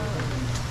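Steady rain hissing down in a continuous wash of broadband noise, with a low rumble underneath and no distinct drops standing out.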